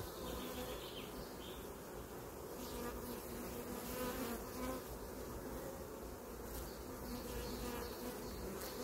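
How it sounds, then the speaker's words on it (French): Honeybees buzz densely around an opened hive, a steady close swarm hum with no pauses and no voices. "Ici s'il y a des gros paquets d'abeilles, bon, on souffle un peu dessus et puis elles se poussent."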